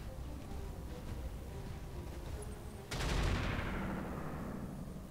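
A mech unloads a full weapons salvo in the RogueTech battle game, a loud burst of overlapping blasts and a rumbling barrage that follows a quieter stretch of background battle noise.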